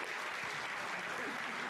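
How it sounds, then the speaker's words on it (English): An audience at a Sierra Leone tourism investment expo in the UK claps in a dense, steady burst of applause that stays even and unbroken throughout. "Ladies and gentlemen, another round of applause"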